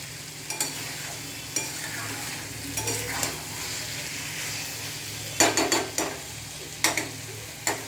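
Paneer curry masala sizzles and fries in a pan for Amul paneer, with steady hiss broken by scraping stirs and several sharp spoon knocks against the metal, closest and loudest near the end.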